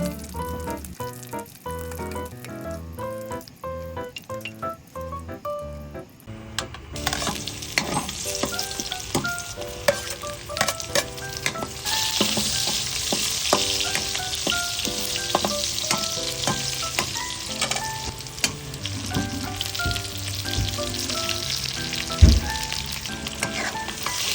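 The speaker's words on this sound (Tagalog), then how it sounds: "bubuwasan ko ng mantika kasi magigisa na tayo ng bawang and sibuyas" Garlic and onion sauté in oil in a pan for pork adobo, a steady loud sizzle with stirring clatter throughout after a brief quieter start, no voices.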